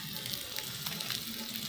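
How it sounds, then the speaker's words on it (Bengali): Potato pieces fry in hot oil left over from frying hilsa fish, giving a soft, steady sizzle with faint crackles. The sound is fairly quiet and continuous, with no talking. "এবার মাছগুলো তুলে নেব, আলুগুলো ভেজে নেব।"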